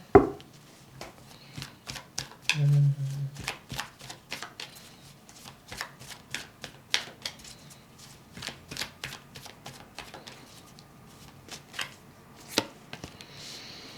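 A deck of oracle cards is shuffled by hand in a quiet room, giving a long run of crisp, irregular card snaps and riffles, close and distinct, with no talking.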